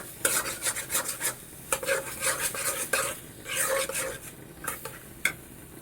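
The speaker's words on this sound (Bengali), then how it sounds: "অনবরত এটা অনেকক্ষণ নাড়তে হবে।" Pumpkin peel mash stirred continuously in an oiled pan: rapid, rhythmic scraping and clinking strokes of a utensil against the pan, close and fairly loud over a light sizzle, with brief pauses between bursts and no talking.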